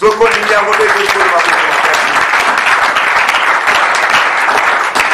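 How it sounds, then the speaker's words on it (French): A church congregation breaks into loud, sustained applause filling the hall, dense steady clapping that holds for several seconds without a break. "Si tu crois, tu acclames."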